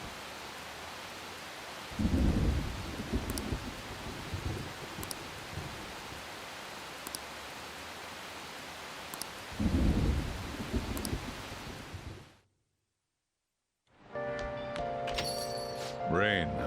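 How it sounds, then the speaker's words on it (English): Rain and thunder in the video game Persona 5 Royal: a steady hiss of rainfall with two deep rolling thunder rumbles, then a sudden cutoff to silence before a music-like tonal passage begins. "Rain, huh?"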